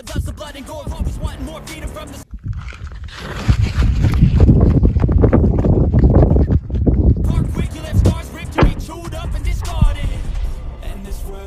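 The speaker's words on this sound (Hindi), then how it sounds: "यहाँ पे हवा चल रही है" Wind blowing hard outdoors, buffeting the microphone with a loud, roaring gust that swells through the middle and then eases, with voices and scraping movement around it.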